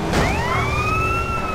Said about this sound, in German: das scheint der Krankenwagen zu sein